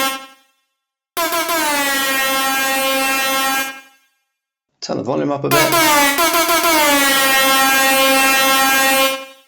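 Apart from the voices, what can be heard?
synthesized air horn sound effect for reggae and dub drum and bass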